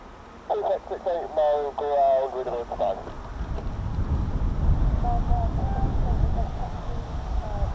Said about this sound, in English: someone just pointed out that's Morse code